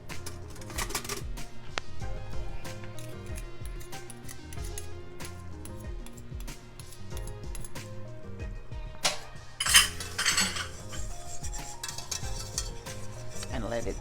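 A whisk stirring a cheesy asparagus casserole sauce in a pot: continuous rapid metallic scraping and clinking with a busy, rhythmic texture and a brief louder clatter partway through, and no talking.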